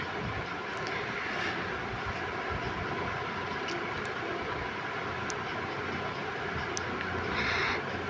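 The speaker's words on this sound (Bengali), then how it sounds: "হাই হিটে পেঁয়াজগুলোকে ফ্রাই করে নেব যতক্ষণ না পেঁয়াজের কালার চেঞ্জ হয়ে আসছে।" Onions frying over high heat in a pan give a constant dense sizzle, a steady hiss with occasional sharp pops, moderately loud and unbroken.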